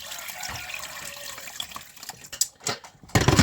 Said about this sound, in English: Then fill it up with water.